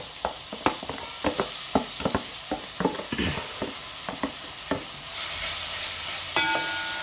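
Vegetables tossed into a hot pan of lobster and prawn curry, with a run of sharp stirring clacks over a steady sizzle that swells louder toward the end.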